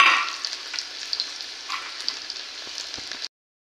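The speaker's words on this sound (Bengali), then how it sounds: "এবারে দিয়ে দেবো লঙ্কা আর রসুন, এটাকে আমি কায়দা করে ভাজি করে নেব।" Chilli and garlic frying in a pan, a steady loud hiss of hot oil with crackling spatter, close up and continuous before cutting off abruptly.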